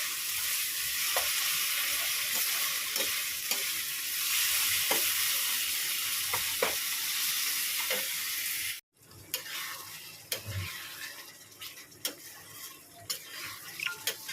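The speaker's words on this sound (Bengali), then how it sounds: "মাংসটা খুব ভালো করে কষাচ্ছি গো" Mutton sautéing with onion and garlic in a pan makes a loud, continuous sizzle with scattered clicks from stirring. After a brief dropout about two-thirds through, the sizzle returns quieter and more uneven. No one speaks.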